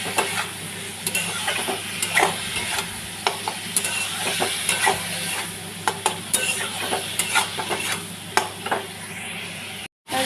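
Spices frying in a pan with chilli powder, turmeric, cumin powder and salt: a steady close sizzle with frequent scraping stirs of a spoon against the pan.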